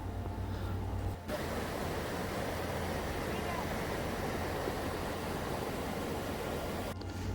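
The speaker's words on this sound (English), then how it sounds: "Hidden Falls drops over 200 feet, and the water rushes down and creates mist." Hidden Falls in Grand Teton, a waterfall dropping over 200 feet, gives a constant broadband rush of falling water, steady and fairly distant, with a low hum at the start and end.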